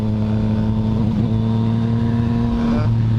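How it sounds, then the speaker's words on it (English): A 2014 Yamaha MT-09 (FZ-09) motorcycle with an Akrapovic exhaust, dB killers removed, idles with a steady, loud, throaty drone that holds level throughout, with a slight rise in pitch near the end. "He's got the Akrapovic exhaust with the DB killers out. It's a nice sound, nice loud sound."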